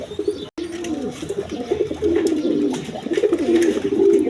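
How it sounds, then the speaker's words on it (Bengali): A pair of large Lahori Shirazi pigeons coo close by in low, throaty rolling calls that repeat steadily and grow a little louder toward the end. "এইখানে এক পেয়ার লাহোরি সিরাজি কবুতর আছে দেখেন, একদম বিগ সাইজের দেখার মতো কবুতর"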